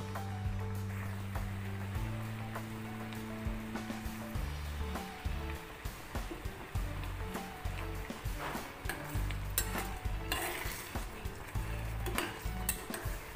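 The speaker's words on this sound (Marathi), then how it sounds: "ह्याला व्यवस्थित एकदम कमी गॅसवर मस्तपैकी शिजवायचं" Broken-wheat daliya porridge with jaggery and ground fennel cooks on a very low gas flame, giving a steady close sizzle and bubbling broken by spoon scrapes and clinks against the pot, with no talking.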